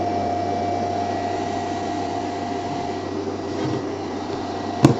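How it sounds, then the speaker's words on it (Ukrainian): Cooling fans of a hybrid inverter running at their second speed during a 3 kW load test on a LiFePO4 battery bank: a steady whirring hum with a faint tonal whine, continuous and close, ending in a brief click. "Спочатку включив першу швидкість вентиляторів, потім другу."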